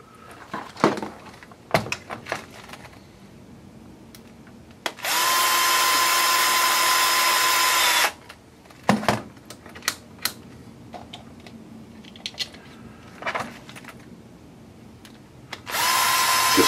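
A power driver drives screws into parts of an Axial Yeti XL RC car, with two sustained whirring bursts separated by clicks, taps and handling of small plastic pieces nearby.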